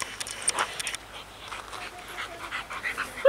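A shelter dog pants softly in quick, steady breaths, faint against a quiet background, with a brief whimper near the end.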